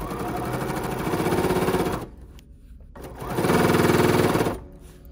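Sewing machine stitching fabric for an embroidered crazy quilt, two close, loud bursts of rapid rhythmic needle chatter separated by a short pause.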